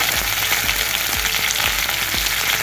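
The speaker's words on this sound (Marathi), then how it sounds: "फोडणी तडतडण्याचो आता आपण घालतलो मेथी दाणे अर्धा चमचो मेथी दाणे घालतोस" Half a spoon of fenugreek seeds crackling in hot tempering oil for a Malvani potato bhaji, a loud steady sizzle with a few low thumps of pan handling underneath.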